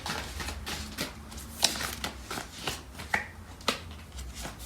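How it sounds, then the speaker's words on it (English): Tarot cards are drawn and shuffled from a deck, giving soft papery flicks and slaps in an irregular rhythm, quiet and close, with no talking. "So I'm going to pull out some more cards from the other deck."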